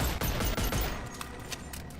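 Rapid volleys of gunfire in the Boneworks VR game, dual-wielded pistols cracking in quick bursts through the first second, then tapering into sparser, fainter shots.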